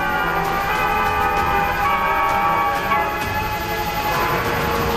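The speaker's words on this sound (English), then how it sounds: "The trains must keep moving." A train rolls along an American railroad, a steady loud rumble of wheels and cars with a sustained horn-like tone over it and faint rhythmic clicks, no talk.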